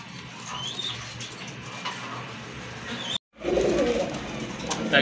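A pair of Rajgolla pigeons being sold with eggs and chicks, cooing softly over steady background noise, with a brief dropout near the middle.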